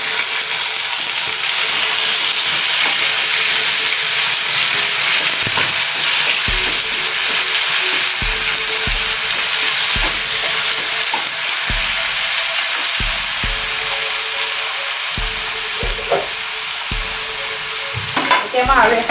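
Onions sizzle steadily in hot oil in a pan, a continuous loud crackle with occasional clinks and stirring scrapes throughout.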